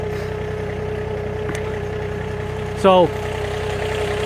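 A Massey Ferguson GC 2610 compact tractor idles nearby, a steady, even mid-pitched engine hum that continues throughout, with someone briefly speaking over it.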